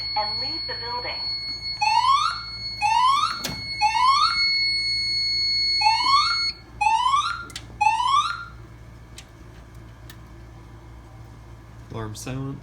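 A Fire-Lite MS-5UD fire alarm system sounds during a building test, repeating rising electronic whoop tones in a regular pattern over a steady background hum, loud and near.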